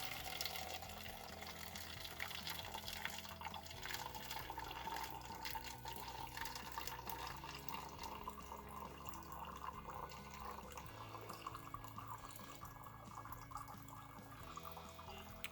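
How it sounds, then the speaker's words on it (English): A dirty rubber garden hose of the non-drinking type runs water steadily into a cup, a continuous close splashing rush that holds for the whole stretch with no talk. "Just got my hose coming straight out of a dirty garden hose here. Rubber, non-drinking type water hose. And I'm gonna just fill up cup number A."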